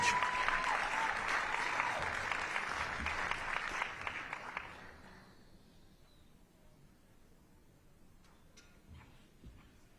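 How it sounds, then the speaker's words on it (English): Audience at a humanitarian awards ceremony applauds to welcome an honoree to the stage, loud massed clapping that fades away over about five seconds into near silence with a few scattered claps. "Let's give him a round of applause and welcome him to the stage"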